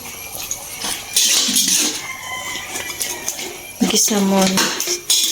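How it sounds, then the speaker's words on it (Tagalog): Chicken is stirred in a pan while cooking, with clattering metal-on-pan clinks and scrapes in uneven bursts, loud and close, and a voice briefly present underneath. "Kailangan nating ihalo ang ating niluluto."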